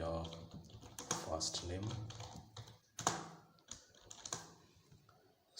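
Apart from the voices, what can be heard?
typing on a computer keyboard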